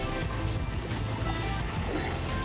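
A rain-swollen river rushes past in a steady, full roar, close and continuous with low churning water noise and no talk over it.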